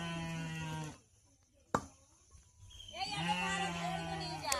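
A flock of sheep being led out to an open village field, with loud harmonic bleats close by at the start and end and a quieter gap between them.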